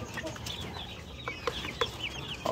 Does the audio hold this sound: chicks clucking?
yes